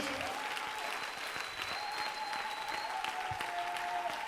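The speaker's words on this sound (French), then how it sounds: "Applaudis très bien pour le Seigneur." A church congregation at an Easter seminar claps for the Lord: continuous, full-room applause with sustained musical tones ringing above it, loud and steady from start to finish.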